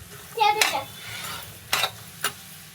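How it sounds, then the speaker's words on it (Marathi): A spoon stirs a coconut mixture with cardamom powder in a kadhai while making coconut vadi, giving a few close scraping strokes against the pan, spaced out and fairly soft, with no talking. "वेलदोड्याची पावडर घातलं की असं व्यवस्थित मिक्स करून घ्यायचं आहे"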